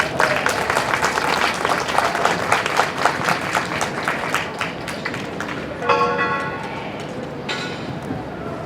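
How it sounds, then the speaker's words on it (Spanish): Dense audience applause at a university lecture event, steady clapping from many hands throughout, swelling briefly near the end, with some murmuring voices mixed in. "Vamos a recibirla también con fuerte palmas."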